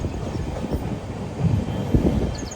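The Hampi Express running on the rails between Mysuru and Hampi, a steady loud rumble of wheels and carriages with faint clacks and a squeal, heard close from on board with no talk.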